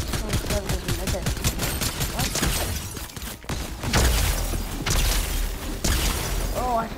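Rapid pistol gunfire in Fortnite, a dense run of sharp repeated shots mixed with other game effects, with players talking over the action.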